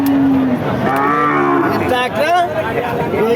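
Cattle at a busy livestock market in Barobazar, Bangladesh, lowing in several loud, drawn-out moos that overlap one another against a steady background of crowd murmur.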